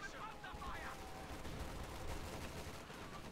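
Veteran BAR rifle fire in a strategy video game, heard as a dense, continuous rattle of gunfire with overlapping shots filling the battle mix throughout.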